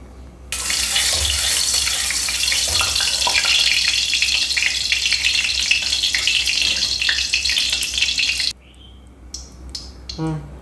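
Tiger prawns rubbed with salt and turmeric fry in hot mustard oil in a kadai, a loud continuous sizzle for about eight seconds that drops away abruptly, followed by a few faint clinks.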